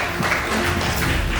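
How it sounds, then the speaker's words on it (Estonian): An award ceremony audience applauds in a dense, even wash of clapping, loud and sustained throughout without pause. "Ja seal ta on, teeme aplausi."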